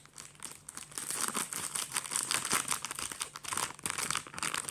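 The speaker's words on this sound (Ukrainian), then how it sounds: "Знову розпаковочка цієї геніальної коробочки." A gift box is unwrapped and opened, giving continuous close crinkling and crumpling of wrapping with brief tearing rustles throughout.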